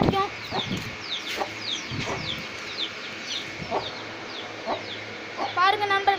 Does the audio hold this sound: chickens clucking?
yes